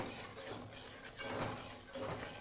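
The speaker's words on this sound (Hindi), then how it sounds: "थोड़ा पानी" A little water poured into a kadhai of spiced masala for dhaba-style kadhai paneer, a soft close hiss and splash lasting a couple of seconds at low level.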